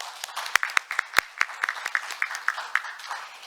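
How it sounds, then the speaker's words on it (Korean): A small audience at a business forum claps for the speakers, a short run of sparse, distinct handclaps in a loose, steady rhythm, moderately close and fairly quiet. "지금까지 수고해 주신 연사분들과 회장님께 다시 한번 큰 박수 부탁드립니다"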